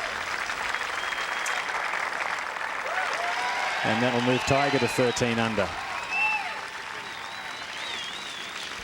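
A golf gallery at the 1999 Motorola Western Open applauds Tiger Woods' birdie with steady, moderately distant clapping and cheers, while a commentator talks over the middle of it.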